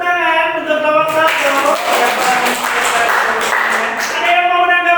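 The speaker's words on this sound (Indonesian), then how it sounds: "Oke, tepuk tangan untuk nomor 1." A classroom group claps for the first group's presentation, dense hand-clapping that rises and holds for a few seconds before thinning out, with voices and tonal sounds audible around it.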